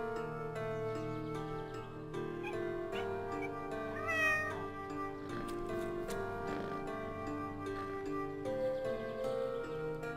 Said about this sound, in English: Here, Kitty, Kitty